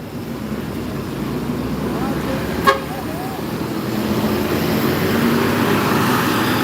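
A bus pulls into a bus terminal in the morning, a steady low rumble of road traffic with one short horn toot partway through, while a voice talks over it.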